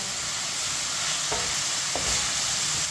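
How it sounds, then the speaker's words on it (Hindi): Chicken pieces frying in a pan over a medium flame for a macaroni dish, a dense continuous sizzle up close with a couple of brief stirring scrapes. "चिकन को 4 मिनट के लिए फ्राई कर लेंगे।"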